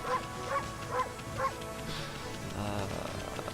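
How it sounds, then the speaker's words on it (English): A dog barks in the video game Okami, four evenly spaced yips with game music and ambience carrying on underneath. "Oh, she's trying to bark, you know."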